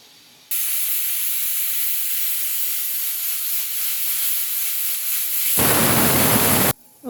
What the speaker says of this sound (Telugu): ఒక విజిల్ వచ్చింది ఫ్రెండ్స్